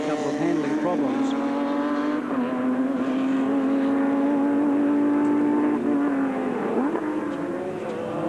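A Formula Holden open-wheel race car howls down the back straight at Mallala in 1990, its engine note held high and steady, running slightly sideways out of a corner, with a commentator talking over it.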